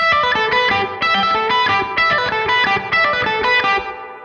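An overdriven electric guitar plays a rock-style solo phrase legato with hammer-ons instead of picking, a smooth, continuous flow of bright notes heard alone at close range.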